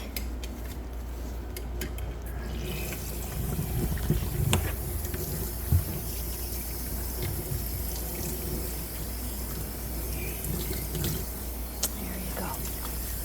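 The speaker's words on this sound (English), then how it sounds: "I'm gonna give him a rinse." Water running from a tap while rinsing a Coton de Tulear dog during grooming, a continuous hiss and splash with small clatters and intermittent talking over it.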